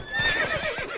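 Roach, a horse in The Witcher 3, gives a loud, close whinny lasting about a second, with a wavering, descending tone that stands alone without talk.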